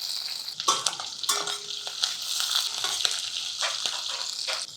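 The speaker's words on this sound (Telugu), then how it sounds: "ఆవాలు చిటపటలాడనిచ్చి ఒక 4-5 వెల్లుల్లి గర్భాలు సన్నగా చీరి పెట్టాను, అవి, కొంచెం కరివేపాకు, ఓ 2 పచ్చిమిర్చి సన్నగా ముక్కలు చేసాము" Mustard seeds, sliced garlic, curry leaves and chopped green chillies sizzle and crackle in hot oil, a close, steady bright frying hiss with occasional pops and spoon scrapes and no voices.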